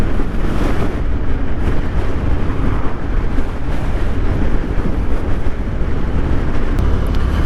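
Constant loud wind rush and low engine rumble from a 2022 Harley-Davidson Fat Boy cruising on back roads, with heavy wind buffeting on the microphone throughout and no talking.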